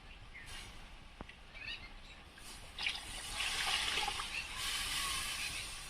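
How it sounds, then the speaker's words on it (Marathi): Water pours and splashes steadily into a pot of Marathi tamarind kadhi, growing fuller and louder partway through, with no talking. "मी थोडस पाणी टाकते याच्यामध्ये"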